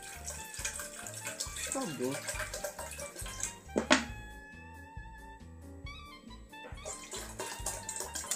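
Water pours from a bottle into a cooking pot while making instant noodles at home, a steady splashing stream partly masked by loud background music.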